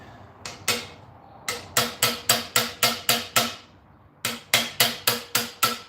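A chisel hammered on a Yamaha XS250 motorcycle during a rebuild, with sharp metallic blows in quick rhythmic bursts, two at first, then a run of eight and another of six, loud and close.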